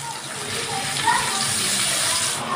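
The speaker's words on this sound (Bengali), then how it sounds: "এবার আমি অল্প একটু জল দিচ্ছি।" A little water is poured into a cooking pan while making a cauliflower curry, a short steady splashing gush heard close, with someone speaking over it.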